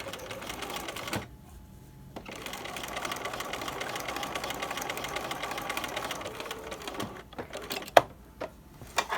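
A sewing machine top stitching the fly front of a trouser runs in a steady, fast mechanical whir and chatter, briefly stopping and restarting, close by, with a sharp click near the end.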